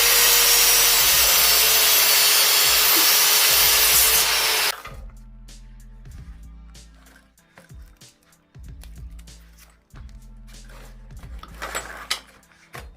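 A padlocked chain is cut off an old moped with a loud, harsh, continuous grinding or sawing for about five seconds, which then stops abruptly and gives way to quieter clinks, taps and handling noises nearby.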